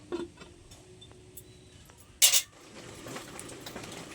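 A metal lid is set down on a pot of simmering mixed vegetable curry, making one short, bright clank midway through an otherwise quiet kitchen with faint background bubbling.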